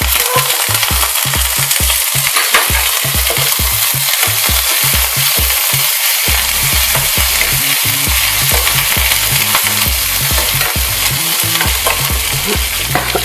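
Curry leaves drop into hot oil with dried red chillies to make a tempering for South Indian coconut chutney. The result is a loud, continuous sizzle broken by quick rhythmic stirring knocks and scrapes, with nobody talking.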